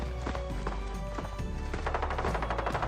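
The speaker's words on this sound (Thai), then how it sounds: "เสียงปืนแบบนี้สกาปะ" Automatic rifle fire in the tactical shooter game Arena Breakout comes as rapid, irregular bursts of sharp cracks, some distant and some closer, over a constant background din.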